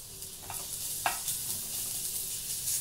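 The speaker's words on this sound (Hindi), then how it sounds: "जैसे ही घी गर्म हो जाएगा, थोड़ा सा मैं लहसुन का पेस्ट जो है वो ऐड करूंगी" Garlic paste sizzles in hot ghee with a steady, close hiss and crackle, punctuated by a couple of faint utensil clinks, and no one speaks.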